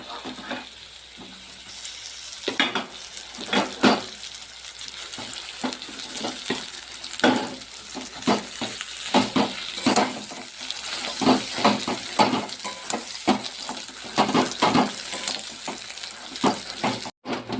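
Potatoes are fried with onions in a pan, giving a continuous sizzle broken by repeated spatula scrapes and stirring clatter, close and uneven in rhythm, with no voices.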